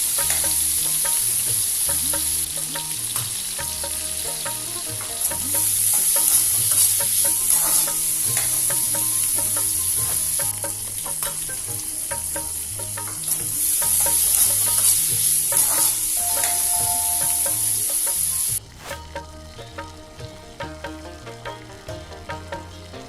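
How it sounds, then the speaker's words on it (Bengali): Dried plums (kul) cooking into a Bengali sweet-sour pickle over low heat in a pan, a long steady sizzle with intermittent stirring that drops quieter near the end. "এবার কুল যোগ করুন এবং কম আঁচে 5 মিনিট রান্না হতে দিন। মাঝে মাঝে নাড়ুন"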